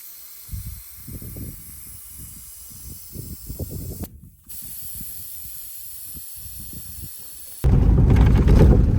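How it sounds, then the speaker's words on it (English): Air hisses out of a car tire being deflated before a drive to Nxai Pan South Camp in Botswana, first in short uneven spurts, then a steady hiss, ending in a louder continuous rush. "Now it's time to deflate our tires and get to South Camp."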